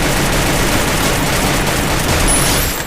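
Dense, continuous gunfire from a shooting video game, loud and sustained with rapid overlapping shots filling the whole stretch and no clear pauses.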